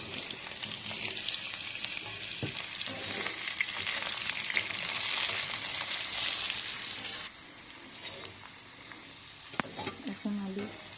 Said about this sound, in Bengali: এই তেলের মধ্যে আলুগুলো দিয়ে দেব,